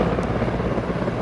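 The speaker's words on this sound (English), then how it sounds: "Army helicopters were seen flying in a formation over the Rajpath" Army helicopters flying in formation over Rajpath during a parade give a dense, steady rotor and engine roar, loud and unbroken with no voices.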